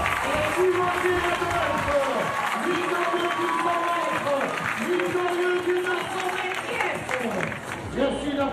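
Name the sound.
audience applauding athlete Timothée Adolphe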